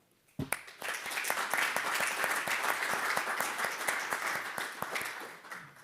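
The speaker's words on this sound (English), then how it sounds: "a round of applause" A round of applause from the audience at a startup demo day, honoring entrepreneurs, mentors and staff, with many hands clapping in a steady, fairly distant patter that starts abruptly and continues evenly.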